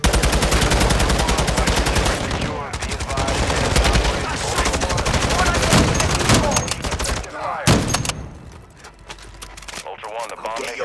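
Heavy automatic gunfire in Call of Duty DMZ rattles nearly nonstop in loud, close bursts and volleys, with radio-style voices talking over the shooting.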